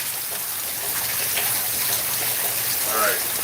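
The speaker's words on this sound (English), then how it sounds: "right now, it's so much rain coming down" Heavy rain pouring down outdoors, with overflowing water nearby, makes a dense, steady roar of drops and splashing that fills the whole clip at close range, with no voices heard.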